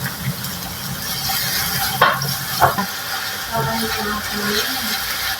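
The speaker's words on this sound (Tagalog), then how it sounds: "Unahin natin iisa ang maraming luya para mabango talaga siya" A large amount of ginger sautéing in a pan for halang halang na manok: a steady sizzle with a few scraping stirs of the utensil, close and continuous, no talking.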